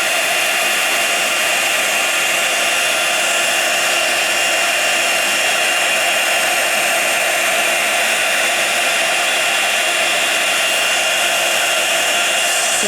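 Heat tool warming embossing powder, giving a loud, steady blowing whir that runs without a break and without speech.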